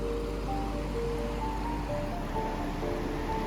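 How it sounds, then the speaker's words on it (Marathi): Rushing water from a swollen, flooded river churns steadily with rough waves. It forms a loud, constant broadband roar that sounds close and has no voices over it. "लाटा बिटा बघा ना कसल्या खतरनाक आहे मधल्या."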